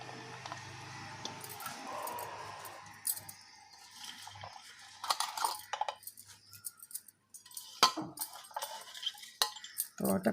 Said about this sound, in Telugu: ఇప్పుడు ఇది కుక్కర్లో వేసుకోవాలి.